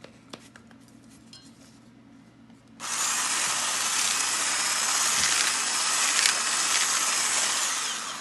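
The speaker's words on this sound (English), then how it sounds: "So the first thing you're going to do is you're going to cream your butter." Electric mixer creaming butter for banana bread starts abruptly after a quiet stretch, then runs as a loud, steady, close whirring drone with a bright, even buzz to the end.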